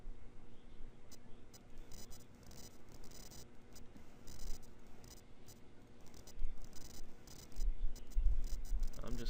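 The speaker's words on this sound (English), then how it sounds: "I'm just clicking away here." Computer mouse being clicked repeatedly while tracing line art in embroidery software, a run of small, quiet ticks in irregular bursts over faint background noise, no talking.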